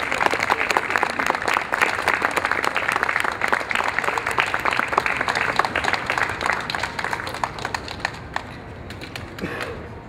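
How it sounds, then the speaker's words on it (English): A crowd at a public gathering about child protective services applauds the Nikolaev family, with dense, sustained clapping throughout that thins and fades slightly toward the end. "Let's give them a nice round of applause"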